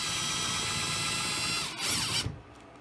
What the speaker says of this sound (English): Use your drill.